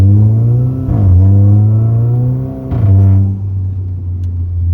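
A Proton Wira fitted with a Volkswagen Golf DSG engine revs up and settles, loud and close, with two rising blips of the throttle over a deep, steady idle rumble.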